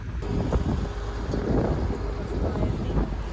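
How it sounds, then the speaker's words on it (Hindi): Cold wind roars steadily into the microphone during a boat ride in Hunza, a dense, continuous rushing buffet close and fairly loud, with faint engine rumble underneath. "इतनी ठंडी हवा चल रही थी."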